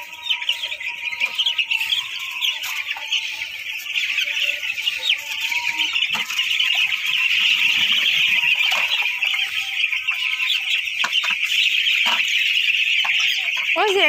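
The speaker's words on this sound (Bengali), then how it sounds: "দেখতেই পাচ্ছ ধার দিয়ে সব বসে আছে মুরগি।" Chickens sitting along the edge of their enclosure, keeping up a dense, continuous chorus of high peeping and soft clucks close by, with occasional faint sounds of people moving nearby.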